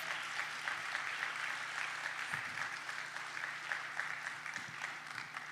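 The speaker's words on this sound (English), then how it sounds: "let's a warm round of applause for Brian" Seated audience at a money-planning event gives a warm, sustained round of clapping, an even mid-level patter holding steady from start to end with faint low thumps underneath.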